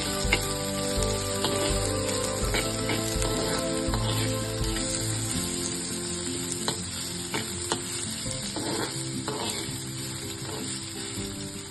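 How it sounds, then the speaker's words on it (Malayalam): Chopped shallots sizzle steadily in a hot pan for a beef dish, with stirring clatters and scrapes of the spoon punctuating the constant frying hiss, close and alone. "ഇനി ഇതിലേക്ക് ചെറിയ ഉള്ളി അരിഞ്ഞതുകൂടെ ചേർത്ത് കൊടുക്കാം. എന്നിട്ട് അത് നന്നായിട്ടൊന്ന് വഴറ്റി കൊടുക്കാം."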